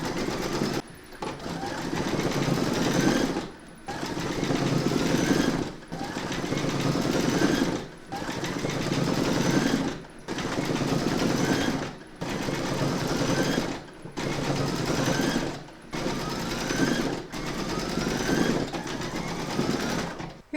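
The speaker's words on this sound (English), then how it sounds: "we're going to stitch round number 5, and that's going to do the decorative back stitching around the edge of the pattern" An embroidery machine runs a decorative back stitch around the edge of a keyring pouch, a steady rapid mechanical chatter close by in repeated bursts of about two seconds, each broken by a brief pause.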